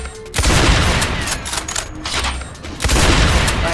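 Rail gun shots fired in the video game Insanity's Requiem, loud bursts of gunfire with sharp attacks near the start, middle and end, dense and continuous throughout with no talking.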